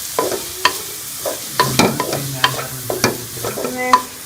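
Chicken with onions and green chillies fries in a pan while a spoon stirs it, giving repeated sharp scraping strokes over a soft sizzle, close and fairly loud.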